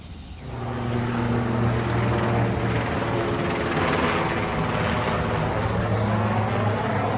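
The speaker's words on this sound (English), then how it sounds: "We get a lot of helicopters." A helicopter passes overhead, its steady, loud rotor drone holding continuously for about seven seconds, with low harmonic thumping persisting throughout in an outdoor workshop setting.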